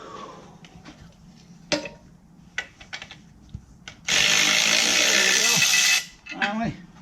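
A cheap, low-powered electric nut runner whirs for about two seconds in a loud, steady buzz, between scattered clanks of tools and talk in a garage while working on a 1965 Mustang.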